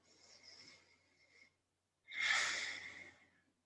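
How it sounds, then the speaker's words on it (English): Two slow, even breaths drawn through the nose during a pranayama breathing class, a softer airy one followed after a short pause by a louder, fuller one, close and alone with no talk. "Just breathing normally through the nose now."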